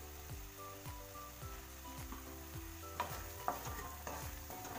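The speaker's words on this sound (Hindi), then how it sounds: "इसको हम थोड़ा सा भूंज लेंगे" Spices such as chili, turmeric and garam masala sizzle softly in a pan for karela dal, with a regular scraping stir repeating about every half second and a few louder clinks.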